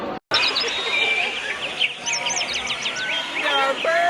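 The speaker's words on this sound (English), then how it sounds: "There are birds!" Birds chirp outdoors in Tampa, a few high, quick calls and trills repeating over a steady background hum, fairly close and moderately loud.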